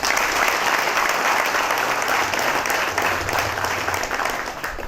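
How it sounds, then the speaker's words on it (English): Steady, dense applause from an audience at a futsal launch event inside a prison, sustained and fairly loud throughout with no voices standing out. "well, I give him a round of applause, please."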